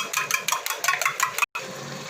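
Eggs being mixed into potatoes in a cooking pot, heard as a quick run of about a dozen rhythmic metallic clacks and scrapes from the utensil against the pot, ending in a brief pause and then a softer scrape.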